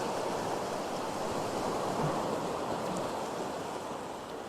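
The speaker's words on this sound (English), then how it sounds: "There's all waves coming in behind me too" Ocean waves rolling onto a Queensland, Australia shore, a broad continuous surf wash with some wind noise, loud and close, with no talking.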